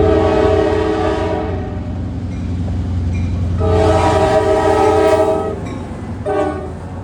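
Freight train led by GP38-2 and GP50 EMD diesel locomotives, a loud diesel rumble with a horn sounding in long blasts over rolling wheels and rail clatter close by.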